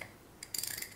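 An old clock-like winding mechanism, an object from an Amsterdam school, is wound with a short burst of quick ratcheting clicks, close and quiet.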